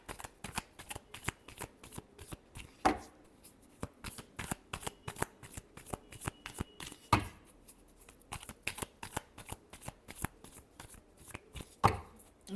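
Tarot cards being shuffled over and over in quick rustling riffles, with a few sharper slaps where the deck is squared or split, close and fairly quiet throughout with no talking.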